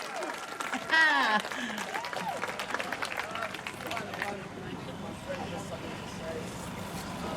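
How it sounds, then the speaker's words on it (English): Crowd applause and cheering at a trans pride march in Melbourne, a dense outdoor burst of clapping and shouts that thins into steady crowd noise, with voices calling out. "A big round of applause to the double Ds, girl!"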